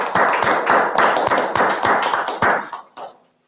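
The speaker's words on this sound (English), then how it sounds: "please clap for the presenter" A small online or conference audience claps for a presenter after a session on urban freight, a sparse, uneven patter of individual claps at close range that thins out and stops near the end.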